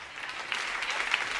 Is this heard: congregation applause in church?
yes